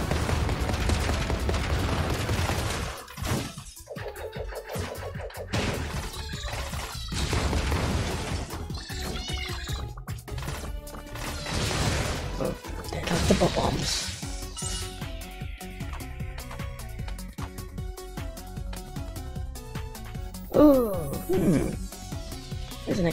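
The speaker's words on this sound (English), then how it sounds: "this is some kind of theme park ride with explosions" Repeated explosions and blasts go off in the Blast Man stage of the Mega Man 11 video game, bursting through energetic game music with crashes and pops, the heaviest near the end.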